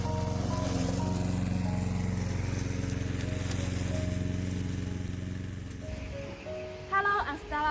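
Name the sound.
Vigorun Tech remote control lawn mower running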